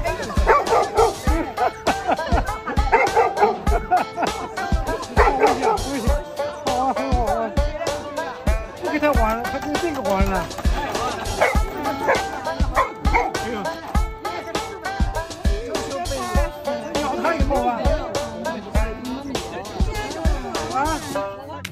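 A troubled dog barks in rapid, repeated yips mixed with whimpers, loud and close throughout, with a voice talking over it.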